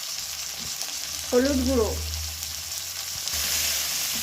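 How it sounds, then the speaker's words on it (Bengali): Potatoes and pui vetuli fry in oil with a constant close sizzle and light stirring, while someone briefly speaks over it. "প্রথমে আমি তেলে আলু আর পুঁই ভেটুলিটা ভেজে নেব"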